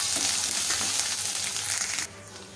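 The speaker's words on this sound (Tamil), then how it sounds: "இது எல்லாமே சேர்ந்து நல்லா தாளித்து ரெடி ஆகட்டும்" Ginger, green chili and curry leaves frying in hot oil give a steady, close, dense sizzle that crackles throughout, then drops noticeably quieter near the end.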